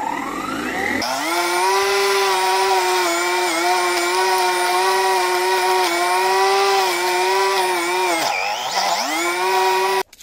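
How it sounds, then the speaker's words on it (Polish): A cordless lawn mower with a brushless controller cuts through dense brush with its housing removed, a loud, steady high whine that holds constant, dips briefly under load near the end and then stops abruptly. "Kosiarka, jak widać, daje radę,"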